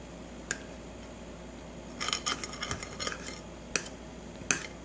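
Utensil scraping and clicking against a pan beneath an omelette, a few isolated sharp ticks, then a burst of rapid scraping, followed by two more distinct clicks, close and fairly quiet.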